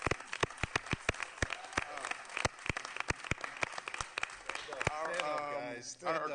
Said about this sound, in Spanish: Quiero darles otro aplauso a ellos.